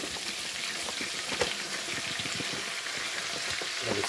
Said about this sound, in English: now I'm going to fry our flour